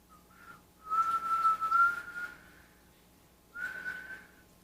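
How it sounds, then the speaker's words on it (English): Whistled notes held at a steady pitch, one long phrase followed by a pause and a shorter second phrase, fairly close and clear. "I'm not very good at whistling, but I do like it."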